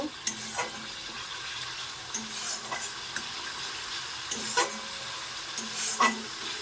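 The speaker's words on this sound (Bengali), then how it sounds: "আমার এই যে মশলাটা এখন কষানো চলছে" Spice masala being sautéed with potatoes in a pan, a quiet sizzle under intermittent scraping and clinking stirs spaced a second or so apart.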